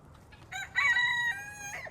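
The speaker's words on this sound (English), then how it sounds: "Little rooster with a big voice." A small rooster crows once, loud and close, a clear rising then sustained cock-a-doodle-doo lasting over a second against a quiet background.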